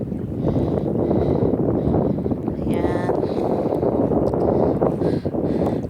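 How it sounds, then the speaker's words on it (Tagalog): Wind blows hard at a beach in Dubai-Sharjah, buffeting the microphone with constant rumbling gusts, while someone talks briefly over it. "Mahangin siya, guys."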